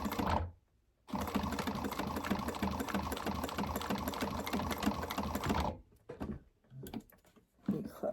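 A domestic sewing machine running a short back stitch on a small fabric tab, a steady, close, fast mechanical whir that lasts several seconds, stops, then returns for a few brief, quieter bursts of stitching.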